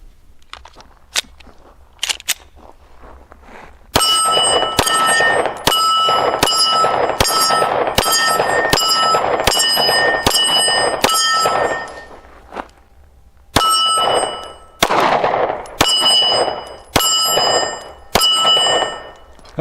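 A GForce Exodus RPX9 9mm pistol, a budget Glock 19 clone, fires about fifteen sharp, loud shots in a steady string with a short pause partway through, each crack trailing a bright metallic ring, after a few faint clicks.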